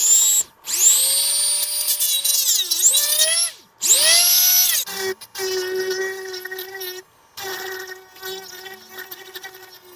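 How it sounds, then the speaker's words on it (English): A small handheld drill bores into a plastic game controller shell during a USB-C mod, a close, loud high-pitched whine that rises and dips in pitch, stopping and restarting in several short bursts. "So this is just a little drill here."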